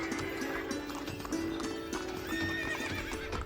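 A cartoon horse pulling a tanga cart clip-clops in a quick, steady trot while neighing and whinnying along the way, close and fairly loud.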